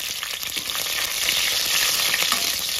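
Green chillies fry in oil inside a pressure cooker with a loud, continuous sizzle and a little stirring. The frying stays close and steady, and no one speaks.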